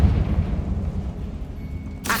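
A Confringo blasting spell detonates in Hogwarts Legacy, a deep, rumbling boom with a long low-end decay that rolls on for about two seconds, closing with a sharp bright burst of crackle at the end.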